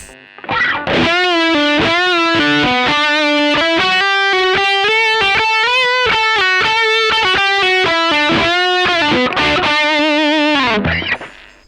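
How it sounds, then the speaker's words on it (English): A loud electric guitar played through an overdrive pedal plays a sustained melodic line with gritty, saturated tone, notes ringing out continuously before fading at the end. "kind of halfway between a distortion pedal and an amp in a box"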